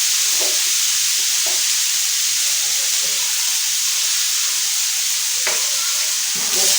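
Minced meat (keema) frying on a tawa over low heat gives a steady soft sizzle and hiss throughout, with a few faint stirring scrapes and no talk.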